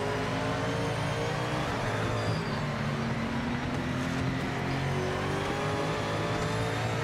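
Race car engines in the Project Motor Racing video game, including a BMW struggling for grip as the sun rises over the circuit, a steady loud engine drone with shifting harmonic whine and faint tyre noise, continuous with no speech.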